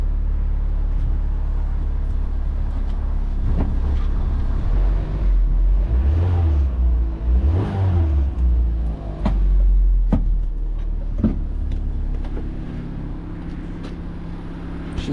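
Chevy Sonic engine running with the airbag module deleted, a steady low idle rumble with some revving and surging, close and fairly loud, with faint knocks and clatter around it.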